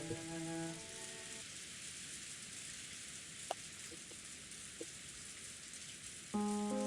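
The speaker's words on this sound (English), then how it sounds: "letting the rain quietly fall on him" Steady rain falls in a rose garden maze, a soft continuous hiss with a few faint drips, while a gentle tonal melody plays at the start and end.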